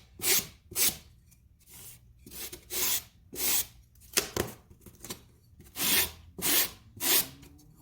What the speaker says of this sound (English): I'm just sanding the edges I just cut